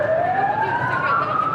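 Air raid siren sounding across Ukraine during a heavy aerial attack, a loud sustained wailing tone slowly rising in pitch over a low background rumble.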